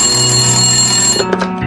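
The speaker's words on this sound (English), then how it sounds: "when he received a phone call" A telephone bell rings with a steady, sustained electronic tone that holds for over a second, loud and close, then breaks off into brief clatter as the call is answered.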